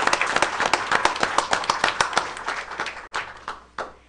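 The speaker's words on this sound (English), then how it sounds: "Audience, please give these art winners another round of" Audience at a school board of education meeting claps for art award winners, a burst of dense, fairly close handclaps with sharp individual claps that thins out and fades after a few seconds.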